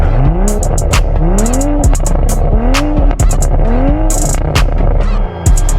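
A loud car engine revs repeatedly, rising pitch sweeps climbing and dropping in several bursts over a constant rumbling idle, close by.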